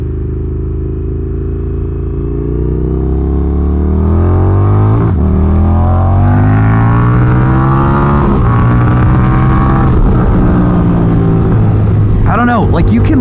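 An Indian FTR motorcycle engine revs up loudly through rising gears, its pitch climbing repeatedly in a close, roaring pull.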